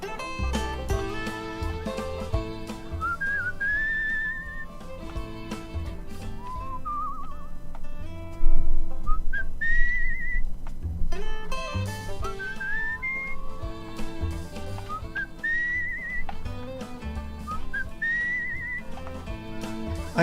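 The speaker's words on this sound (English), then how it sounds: "I don't get the whistling mechanic." A melodic whistle rises and falls in short phrases over a steady musical backing in the game Where the Water Tastes Like Wine, repeating several times and sitting clearly above the music.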